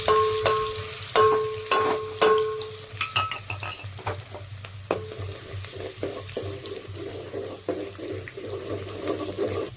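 Onion frying in a tempering of mustard seeds and cumin for a pea-and-tomato curry, with a soft sizzle beneath repeated metallic clinks and scrapes of a spoon stirring in the pan, close by.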